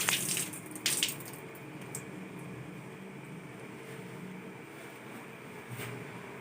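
Tap water running steadily at a sink while hands and forearms are rinsed up to the elbows, a continuous close wash with a few brief louder splashes near the start.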